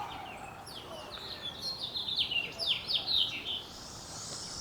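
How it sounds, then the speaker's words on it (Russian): Songbirds sing all around outdoors, a cluster of bright chirps and trills rising in the middle of the stretch over steady background hiss, fairly close and lively. "Тут птички распелись."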